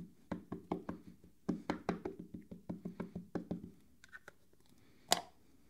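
A rubber stamp thumps onto a piece of paper at a scrapbooking craft table: a quick rhythmic run of soft, close knocks, a pause with faint taps, then one sharper click.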